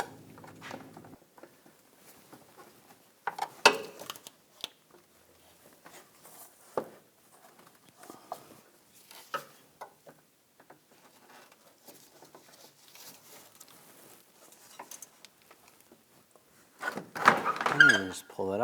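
Plastic headlight grille clips on a 2014–2018 GMC Sierra are pried loose with a pick, giving scattered soft clicks, taps and thunks spread over a long stretch, with a louder cluster of rattling snaps near the end; someone talks quietly throughout.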